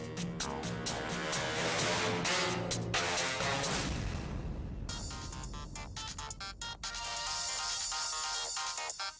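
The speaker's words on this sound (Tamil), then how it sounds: "சார் ஃபோன் வந்திருக்கு." A phone ringtone in a Tamil TV serial scene plays continuously for about nine seconds, loud and close, with a bright melodic, music-like tone that shifts partway through.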